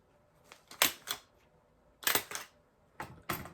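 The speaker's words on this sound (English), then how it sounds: "I can take my stapler, and I'm going to staple" A stapler pushes staples through folded paper to bind a small booklet, giving three clusters of sharp, close crunching clacks separated by short pauses, with no talking.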